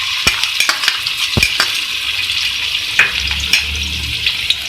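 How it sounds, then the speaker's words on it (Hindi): Ginger and garlic frying in hot oil in a pan for karela karahi, making a loud, continuous close-up sizzle broken by scattered sharp clicks and taps of a utensil against the metal. "देखिए, मैं अदरक लहसुन को फ्राई कर"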